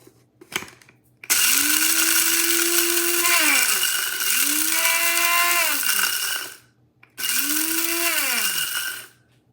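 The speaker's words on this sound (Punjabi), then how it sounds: "ਇਹ ਮੇਰੇ ਕੋਲ ਗ੍ਰਾਈਂਡਰ ਛੋਟਾ ਹੀ ਹੈਗਾ ਇਹਨੂੰ ਮੈਂ ਥੋੜਾ ਥੋੜਾ ਕਰਕੇ ਹਾਂਜੀ ਪੀਸੂੰਗੀ" A small electric grinder grinding puffed rice whirs in three bursts, each spinning up with a rising whine, running several seconds, then cutting out; loud and close.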